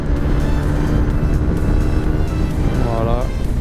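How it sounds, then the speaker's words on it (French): A Yamaha MT 125 motorcycle engine drones loud and steady while overtaking a truck on a Sardinian road, with rising wind and road roar throughout and someone speaking over it. "Allez, on double le camion."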